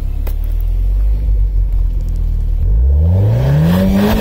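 A Renault Clio 4 RS revs behind the car, a deep rumbling idle rising into a climbing engine sweep near the end, loud and close, with no talking.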